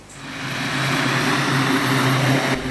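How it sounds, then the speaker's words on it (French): A propeller plane carrying a bishops' delegation lands at Ruenda aerodrome in Butembo, a loud steady engine drone that swells and holds before cutting off abruptly, with no voices over it. "l'avion de la délégation des évêques de la province de Bukavu atterrit à l'aérodrome de Ruenda Butembo"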